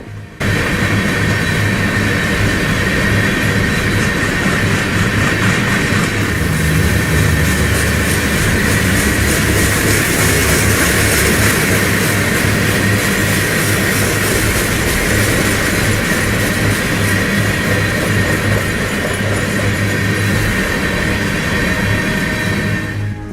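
A freight train slowing down rumbles loud and close with a constant roar, metallic squeals and screeching wheels, steady throughout with no voices.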